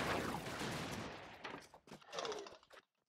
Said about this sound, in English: so many explosions right away.